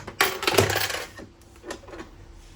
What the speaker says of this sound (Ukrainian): Також додамо монеточки.